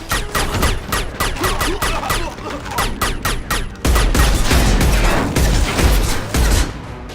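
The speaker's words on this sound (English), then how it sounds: "Taking fire!" Rapid gunfire from a Mass Effect 2 firefight, a dense run of sharp repeated shots that thickens into heavier, booming bursts in the second half, loud and close with no talk over it.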